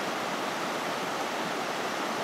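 Collins Creek flowing steadily, a dense, constant rush of water with no breaks, close and fairly loud throughout.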